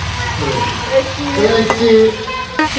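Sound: vegetables being sautéed with spices in a pan

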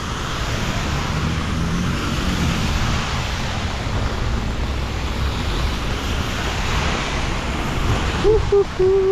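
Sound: road traffic with many passing cars in New Zealand

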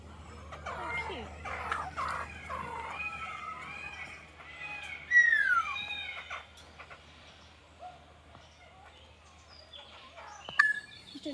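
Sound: spotted laughing thrush calling

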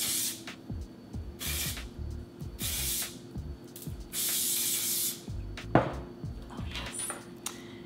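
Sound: hairspray being sprayed on hair

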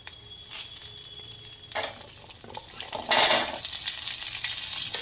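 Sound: onions and curry leaves frying in a pan for beetroot chutney

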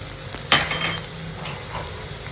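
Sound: red chili powder added to roasting peanuts in a pan

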